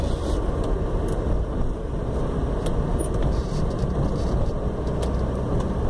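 A car fitted with an RHD Engineering individual throttle body intake, light flywheel and EcuMaster EMU creeps forward at very light throttle in third gear, producing a steady, loud low engine drone.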